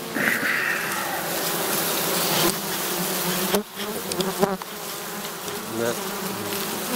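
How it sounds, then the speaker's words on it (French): A swarm of black honeybees and hybrids drones around a hive in the open, a loud, close, continuous buzz that shifts in pitch as individual bees fly past, with some handling noise midway. "on voit qu'il y a quelques abeilles qui traînent qui peuvent être de quelques autres colonies là-bas"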